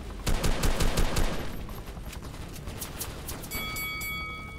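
Rapid AK47 bursts rattle loudly in the Base Battles video game, a dense volley in the first second or so, then quieter shots and electronic tones ring out.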